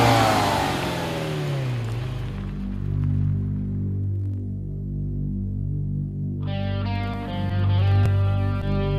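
A Ferrari 456 GT engine revving, a loud throbbing note that sweeps down from a high rev, then holds a steady hum before rising again with a sharper harmonic edge.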